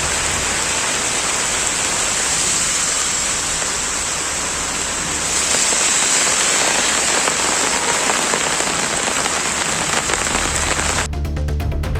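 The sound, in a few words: moderate rain with cold wind in Mettupalayam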